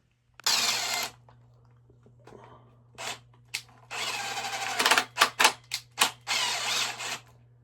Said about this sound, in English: Lock it in and then zip it out with your impact.